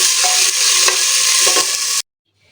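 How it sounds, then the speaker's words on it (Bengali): Ginger garlic paste and bay leaves frying in hot oil in a pan, a loud, close, bright sizzle with a few stirring scrapes, cutting off abruptly after two seconds. "একটু 1 মিনিট কাঁচা গন্ধ যাওয়া পর্যন্ত 1 মিনিট ভেজে নিব"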